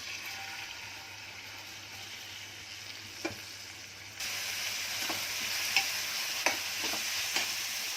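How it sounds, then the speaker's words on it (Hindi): Two medium onions, finely chopped, frying in oil for a bhaji, giving a soft steady sizzle that grows slightly louder midway, with a few faint clicks of a stirring utensil. "ये प्याज मैंने डाली हूँ 2 मीडियम साइज के प्याज है, जिनको बारीक काट के ली।"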